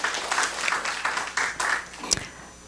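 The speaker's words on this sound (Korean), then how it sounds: "이분들 지금 발표하신 분들 박수를 쳐드립시다" A church congregation claps for the presenters after a special sermon, a short burst of moderately loud applause that thins and fades out within a couple of seconds.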